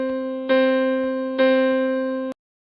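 Full length of a monochord string sounding in an online simulator: a steady harmonic-rich tone plucked three times in succession, each pluck renewing the note before it cuts off abruptly.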